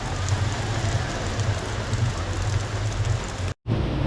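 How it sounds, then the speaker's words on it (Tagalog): Steady rain pattering on a surface, a dense continuous hiss with a low rumble underneath, cut by a brief moment of silence near the end. "Ay, patay. Ulan na."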